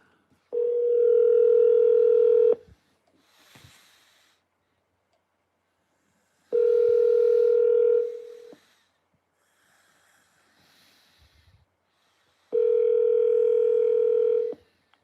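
An outgoing phone call placed through an Alexa smart speaker rings three times, each a loud, steady two-second tone separated by quiet gaps with faint breathing or background noise.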